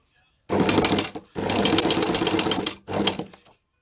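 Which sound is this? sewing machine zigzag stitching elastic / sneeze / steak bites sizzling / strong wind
sewing machine zigzag stitching elastic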